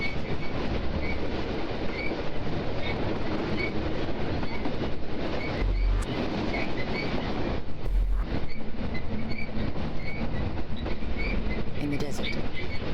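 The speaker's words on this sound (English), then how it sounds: "I'm on a train." A train in the video game Phoenix Springs rumbles and rattles continuously, with rhythmic clatter of wheels on rails and a couple of heavier low thumps. A voice speaks briefly over the steady mechanical din.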